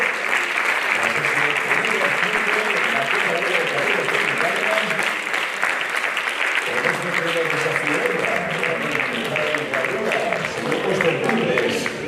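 Steady, sustained applause from the audience at a mountaineering federation awards gala in Galicia, a dense, even crowd clapping that carries on unbroken and fairly loud throughout.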